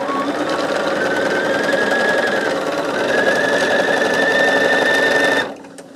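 Sewing machine stitching quilt fabric for a small quilt project, running in one steady, close, loud whirring burst for about five seconds before stopping abruptly.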